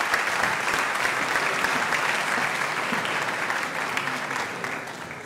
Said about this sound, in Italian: Grazie a tutti per l'applauso che mi avete fatto.